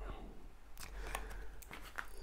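Tarot cards are split, cut and shuffled close by, making a few crisp papery snaps and riffling bursts spread across a couple of seconds over a low background hum.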